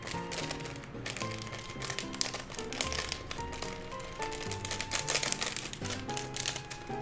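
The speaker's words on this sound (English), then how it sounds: "Ooh, there's a couple cards in here. I'm gonna slide them out." Pokémon cards are slid out of sealed packaging, making a run of crisp close-up taps, rustles and clicky plastic crinkles in a rapid irregular rhythm, with no talking.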